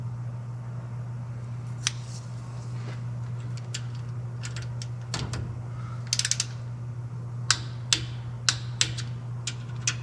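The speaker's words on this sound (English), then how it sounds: "Now these get torqued to 5 foot-pounds up against the caps." A torque wrench tightens the differential bearing cap bolts on a 12-bolt Chevy diff, giving sparse sharp metallic clicks and ratchet ticks, clustered toward the end, over a steady low hum in a quiet shop.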